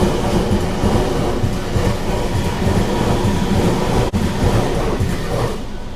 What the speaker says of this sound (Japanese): 右から左に電車通り過ぎたのにまた右から来んの？